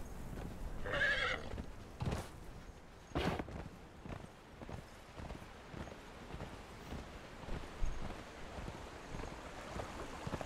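A horse in the video game Conan Exiles whinnies loudly in a couple of sharp bursts near the start, followed by steady clip-clop hoofbeats and a low washing background ambience.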